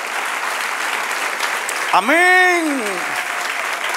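A church congregation claps steadily through the whole stretch, a broad wash of hands under a preacher's voice that rises into a sung, drawn-out exclamation midway.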